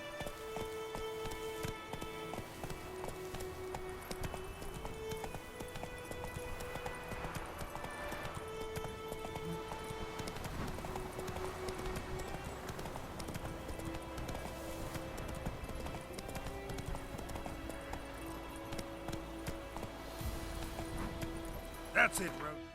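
Roach the horse's hooves clip-clop in The Witcher 3, a steady walking beat of hoof falls sitting under continuous game music throughout.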